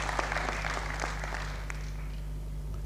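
Audience applause at the launch of a capital markets development master plan, a steady patter of clapping lasting a few seconds and slowly thinning, heard at moderate distance in a hall with a low hum.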